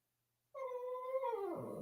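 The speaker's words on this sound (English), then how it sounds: "Do y'all hear my dog?" A pet dog at home gives a single sustained, whining howl that rises in after a silent start and slides down in pitch at the end, fairly quiet and alone.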